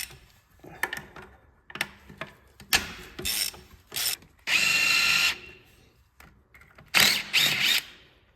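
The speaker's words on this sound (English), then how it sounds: "next we'll do the alternator, and that looks like it's three 12 millimeter bolts." A ratchet loosens the three 12 mm bolts holding an alternator during an engine swap on an RSX race car, with bursts of clicking pawl ratcheting separated by pauses and handling noises, close and clear with no talk.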